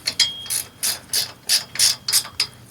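A hand ratchet tightening bolts on a Brunswick GSX bowling pinsetter sweep wagon gives about eight quick, close, crisp clicking strokes in a steady rhythm, heard alone in a quiet room.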